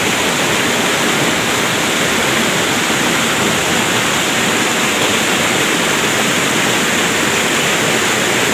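Ceracai waterfall in South Aceh, a loud, unbroken roar of falling water heard close by with no voices.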